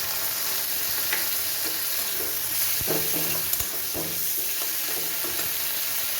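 Ginger and cumin paste frying in a pan with garlic and chili, a steady close sizzle with a few scraping stirs and clinks of a utensil.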